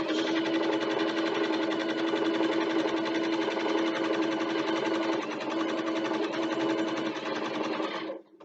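A sewing machine runs continuously for several seconds stitching the lining onto a bookbag, a steady close motor whir with rapid needle chatter, ending with a short stop.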